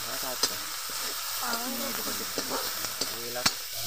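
Onion and finely chopped green chilli fry in oil while being stirred, a close, steady sizzle broken by sharp scrapes and clicks of a spoon against the pan.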